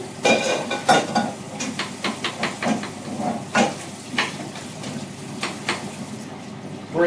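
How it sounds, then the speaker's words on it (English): A mixture being stirred in a pan while cooking, with repeated scraping strokes over a steady sizzle, close and fairly loud, in an uneven rhythm. "And then we'll stir that in."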